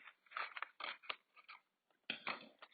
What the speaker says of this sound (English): You're going to take a pair of scissors